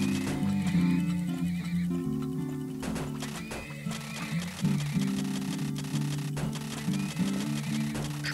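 Horses neigh and whinny with clip-clopping hooves in the video game Turmoil, layered over a steady tonal game soundtrack, several calls spread through the stretch at moderate loudness.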